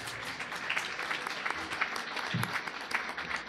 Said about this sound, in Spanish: Pido también un aplauso a nuestro panel